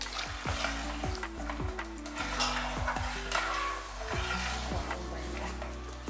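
Jaggery syrup heating in a pan is stirred with repeated scraping and clinking strokes against the metal, steady and close, with a low sizzle and a faint tonal hum underneath.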